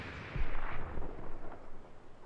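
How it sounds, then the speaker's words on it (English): An anti-tank gun fires in the World War II shooter Hell Let Loose, a single sharp distant report followed by a rolling low rumble under continuous battlefield ambience, with no voices. "The AT gun is firing, but I don't see any explosions yet"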